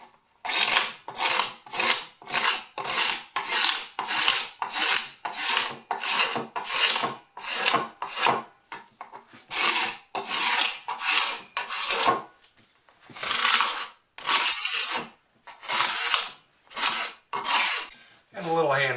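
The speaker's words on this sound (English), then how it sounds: "Let's use a card scraper to get rid of some of the" Card scraper rasping glue squeeze-out off a wooden top for a root vegetable bin, in rapid repeated strokes, steady at first and then slower and more spaced, close and loud with no talking.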